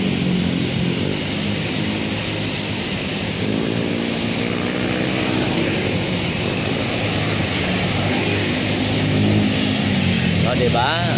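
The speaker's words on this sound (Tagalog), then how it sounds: "Tingnan nyo, ganyan po kabilis yung mga sakya pag dumadaan dito." Vehicles speeding past on a road, a rushing roar of passing traffic that rises and falls with wind noise, with a person talking over it throughout.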